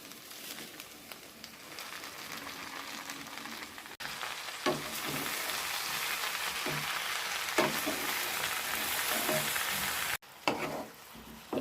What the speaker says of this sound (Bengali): কেটে রাখা পালং শাক এবার দিয়ে দেব।